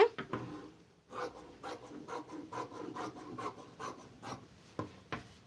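Fabric from a ration saree being cut for a dress, with scissors rasping and rubbing in repeated close, uneven strokes and short pauses between cuts.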